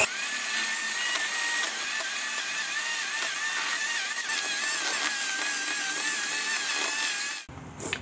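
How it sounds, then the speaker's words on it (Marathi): An electric beater whirs steadily and loudly through an ice cream mixture in a bowl, its motor whine carrying bright harmonics that waver as the speed changes, then stopping abruptly just before the end. "त्यामुळे हे इलेक्ट्रिक बीटरने व्यवस्थित बीट करून घ्यायचं आहे"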